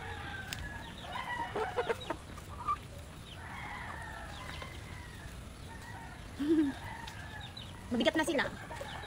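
Brahma chickens clucking and calling intermittently at moderate distance, with a few short rooster-like bursts and a faint voice in the background.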